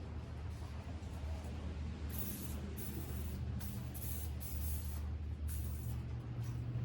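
Short hissing bursts of B'laster penetrating oil sprayed onto a John Deere baler, several quick sprays in a row over a low steady background rumble.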